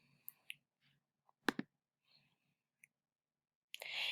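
A computer mouse clicks on a web link: scattered single clicks with uneven gaps, a couple of sharper double clicks, then a brief burst of rustling noise at the end, all close and quiet.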